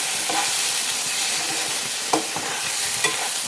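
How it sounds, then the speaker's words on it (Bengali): A ground spice paste fries hard in a pan, a loud dense sizzle running throughout, broken by a few sharp scrapes of stirring. "এটাকে ভালো করে ভেজে নিচ্ছি একটু।"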